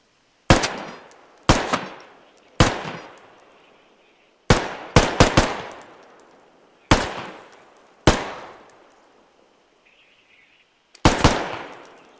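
Single rifle shots fired one at a time in the Squad military shooter, about nine sharp loud cracks with echoing tails, mostly spaced around a second apart, including a quick double and a triple burst, with no talking.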